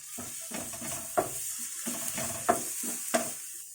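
A spoonful of fish marinade being stirred into browned onions in a pan for an Egyptian sayadeya fish tray, with rhythmic scraping strokes and a few sharp clacks over a low sizzle.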